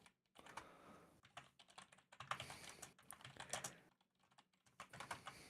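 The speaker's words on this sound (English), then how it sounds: "let's begin with just typing bit 64 bit" Fast typing on a computer keyboard, with clustered bursts of key clicks and brief pauses between them, close and fairly quiet with no voices.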